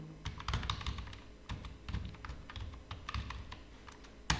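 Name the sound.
typing on a computer keyboard in Tally Prime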